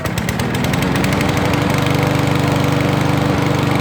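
A Lawn Boy push mower with a Kohler engine, never run in a long time and heavily choked, catches after a cord pull and settles into a loud, steady, rapidly pulsing engine idle close by, with no talk.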